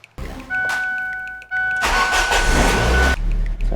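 A Ford Focus Mk1 engine cranks with a whirring starter, pauses, then cranks again and catches into a loud, rough close-up idle that drops away briefly near the end.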